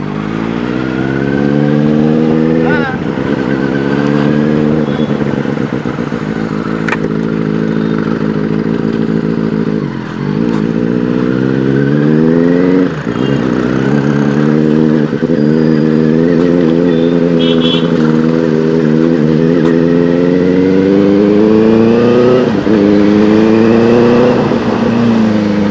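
A Benelli 600i motorcycle with a loud Ixil exhaust is ridden through Kolkata, its engine droning close and loud as it rises and falls through repeated revving and gear changes over the whole stretch.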